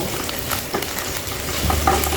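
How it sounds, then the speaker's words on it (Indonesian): Spices being stir-fried in a pan for butter fried chicken, a loud, close sizzle broken by scraping stirs, with a low rumble that rises toward the end. "Tumis hingga harum ya."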